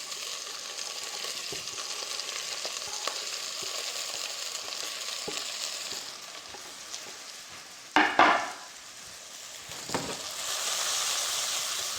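Ingredients for an Alaskan spicy stew tipped all at once into a pot over low heat, giving a steady close sizzle and frying hiss with soft stirring scrapes and a louder burst of clatter and sizzle partway through.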